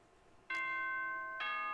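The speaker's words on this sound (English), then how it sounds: "Ding dong bang bong. This is a school announcement." A two-note electronic school announcement chime from the video game Danganronpa rings out clearly, each bright tone held and ringing before the second strikes, with no talking over it.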